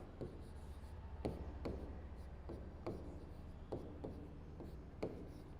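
Chalk or marker writing on a board during a physics chemistry lecture, faint scratchy strokes with sharp taps every second or so over steady room hum, no talk.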